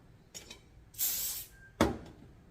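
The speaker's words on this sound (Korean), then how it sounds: "스프레이를 뿌리고" Hairspray hisses from an aerosol can onto a short bob wig piece during styling, one steady half-second burst between small handling clicks, followed by a sharp clatter, close and fairly loud in a quiet room.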